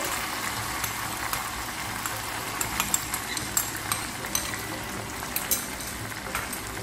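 Tomatoes and tomato paste stirred into browned chicken in a pot for kabsa, a steady soft sizzle and bubbling with scattered scraping clicks of the spoon, close and continuous with no talking.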